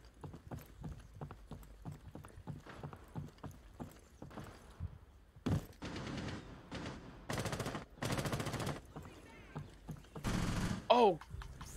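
Gunfire bursts crack out during a tense Rainbow Six Siege match, with several sharp volleys amid scuffling footsteps and movement, fairly quiet overall, and a brief voice near the end.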